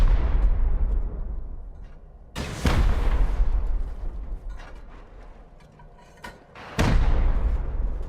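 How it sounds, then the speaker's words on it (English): Rocket explosions go off during a base raid in the video game Rust, with two loud, booming blasts about four seconds apart, each trailing into a long rumbling decay over heavy low noise, and no talking. "Right, rocket incoming."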